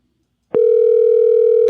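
A single steady ringback tone of an outgoing phone call starts abruptly about half a second in and holds at a constant pitch, loud and alone with no talk.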